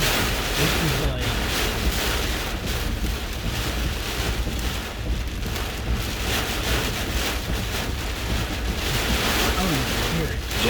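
Hurricane Zeta's eyewall winds roaring in Slidell, Louisiana, a loud, unbroken howl buffeting the microphone with gusty surges throughout.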